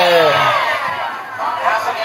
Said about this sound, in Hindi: भाई देख लो कितनी भीड़ लगी है, अंदर आ गए मंदिर के हम, इतनी भीड़ है भाई